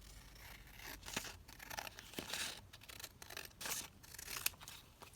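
A paper craft piece is trimmed with a run of quick, crisp snips and rustles of paper, close and fairly quiet, with short pauses between cuts.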